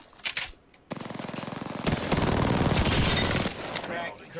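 Rapid video game gunfire in a sustained automatic burst, loud and close, with a few sharp single shots leading in.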